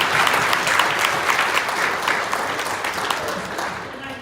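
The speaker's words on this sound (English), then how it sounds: "Let's give you all a big hand and a big applause." An audience at a community food bank's 50th anniversary celebration claps in sustained, dense applause that stays steady for several seconds and then slowly tapers off.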